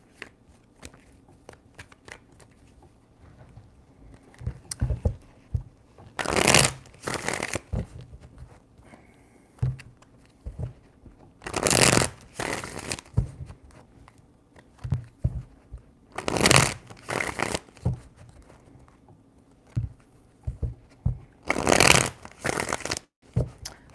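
Tarot cards being shuffled in four distinct bursts, each a quick crisp riffle of a couple of seconds, separated by quieter stretches of soft handling and small taps, close and alone without talk.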